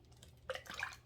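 Water trickles and drips faintly in a small indoor mini waterfall fountain set up in a living room beside plants, a brief, soft splash of liquid against a low background hum.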